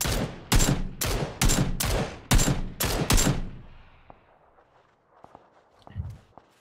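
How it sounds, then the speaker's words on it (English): Loud bursts of automatic gunfire in PUBG, six or seven close, sharp volleys in quick succession, then quieter scattered clicks and footsteps. "There are people shooting down the hill."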